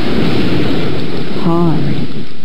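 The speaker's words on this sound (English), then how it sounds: "It wasn't much fun sitting up there not speaking, especially when it began to rain." Steady hiss of rain falls on a Berenstain Bears video game scene, holding an even level throughout, with a brief voice rising over it about midway.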